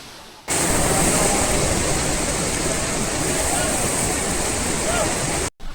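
Kalu waterfall in Karnataka roars with a loud, steady broadband rush of falling water that starts abruptly and holds constant, close to the microphone, before cutting off briefly near the end.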